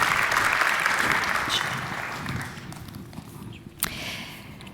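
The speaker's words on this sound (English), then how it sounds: "I think we can give her a warm round of applause." Audience applauding at a cybersecurity summit, the INCYBER Forum opening session, steady and broad at first, then thinning and fading out, with one sharp clap or knock near the end.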